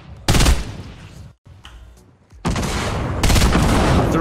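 Grenades explode in a Fortnite Battle Royale squads match, loud close bursts of blasting noise in two separate volleys with a brief quieter gap between them.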